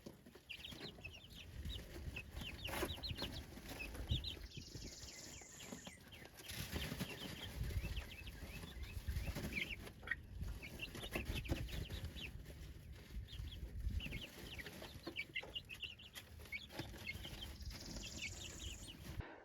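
Chickens cluck softly and steadily over a low, continuous outdoor background, with occasional louder bird calls breaking through.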